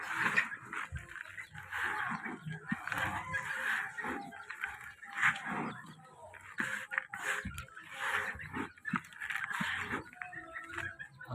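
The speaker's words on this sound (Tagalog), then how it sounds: "Manok. Manok." Several chickens cluck and call repeatedly, fairly close, in an uneven busy chatter with occasional louder squawks.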